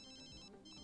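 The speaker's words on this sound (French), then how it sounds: "C'est le téléphone de Carissa qui sonne" A mobile phone in The Sims 3 rings with a bright, repeating electronic ringtone in short pulsed bursts, close and clear, with nobody speaking over it.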